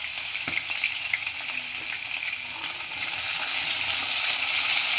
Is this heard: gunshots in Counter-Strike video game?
no